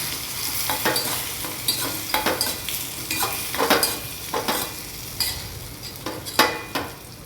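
Potato mixture stirred with salt and red chili powder for Marathi-style batata katli, a spoon scraping through it in repeated strokes over a soft background sizzle, close and steady with no talking.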